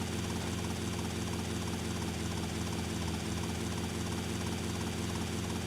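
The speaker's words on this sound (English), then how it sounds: "If I fly any lower, the propellers are gonna start hitting the building almost." Low-flying helicopter in GTA Vice City, a steady loud rotor and engine drone with rhythmic blade chop running the whole time, no voices.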